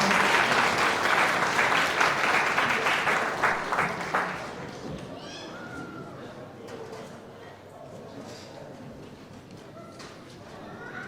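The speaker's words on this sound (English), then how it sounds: "Please give her a big round of applause" An award ceremony audience in Birmingham, UK, bursts into loud applause. The clapping is dense at first, then fades over several seconds into a quieter hall with faint voices.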